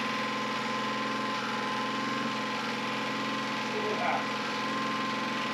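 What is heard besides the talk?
Graco 3400 line striping machine engine revving up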